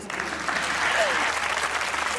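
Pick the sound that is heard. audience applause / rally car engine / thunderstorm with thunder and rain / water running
audience applause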